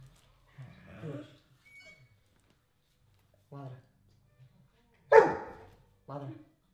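A small dog gives several short, sharp barks on command, separate yaps spaced apart with one louder bark, while a person calls out commands between them.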